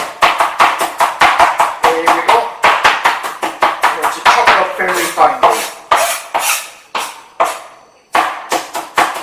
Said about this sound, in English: You have to chop it up fairly finely.